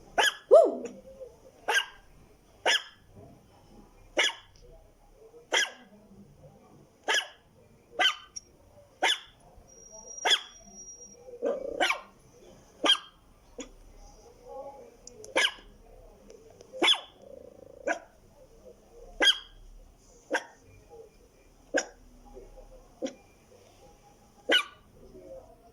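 A man imitates a dog with a long series of short, evenly spaced barking sounds, each a single sharp bark separated by brief silences, close and moderately loud.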